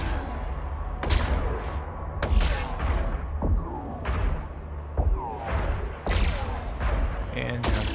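Enemy ships firing weapons in EVE Online, with repeated sharp gunfire bursts and heavy thuds at irregular intervals over a low drone.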